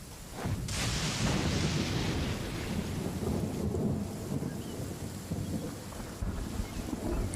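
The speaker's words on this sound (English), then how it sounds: "Cool that it's raining, though." A steady wash of heavy video game rain with low rumbling underneath, constant and fairly loud throughout, with no voices.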